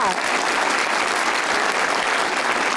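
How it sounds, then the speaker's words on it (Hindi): Strong, dense applause from a television talk-show studio audience, loud and continuous with no break, a thick wash of many hands clapping at once. "इतनी दमदार तालियां"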